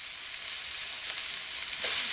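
Green beans hit a hot oily pan with pork in a Sichuan stringbean dish, producing a loud, steady, hissing sizzle that swells slightly near the end, close up and with no talking.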